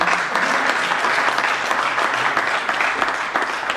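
A room full of people gives the presenters a round of applause, a dense, even burst of clapping that stays loud and steady from start to finish.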